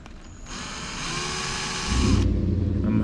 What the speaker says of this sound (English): take a 1/4 inch drill bit and drill right in the center of that mark we made